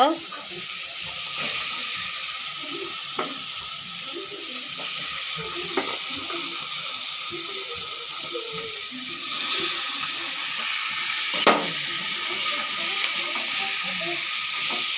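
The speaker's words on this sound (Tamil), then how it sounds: "அதே போட்டு வதக்கிக்கலாம். கொஞ்சம் வதங்கட்டும், சிக்கன் கொஞ்சம் வதங்கட்டும்." Half a kilo of cleaned chicken sautéing in a pan gives a steady, close hiss and sizzle, with faint clinks and stirring throughout.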